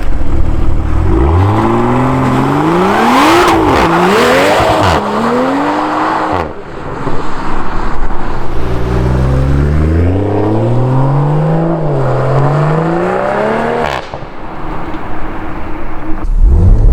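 A tuned BMW M340i with an M Performance exhaust accelerates hard through several gears, its engine rising and dropping in loud, sweeping revs with brief shift breaks, close and powerful throughout.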